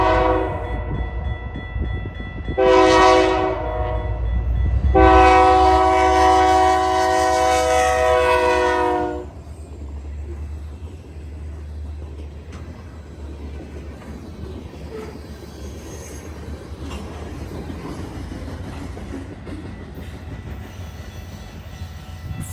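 Freight train led by a GP40-2LW locomotive passing on the main line: two loud horn blasts, a short then a long one, followed by a steady rumble of rolling cars.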